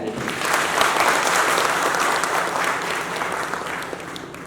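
A crowd at a millets seminar and exhibition in Khonsa claps steadily and loudly in a sustained wash of applause without pauses.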